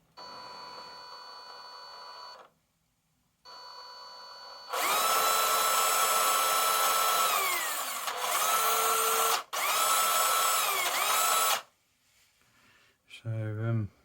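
A small electric motor in an MN86S RC car whines as it spins the wheels, rising in bursts and stopping several times, loud and close, with a brief voice at the very end.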